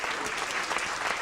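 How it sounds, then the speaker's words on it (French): Dense, steady applause from a television studio audience fills the stretch alone, loud and close, with no talk over it. "On l'applaudit encore fort"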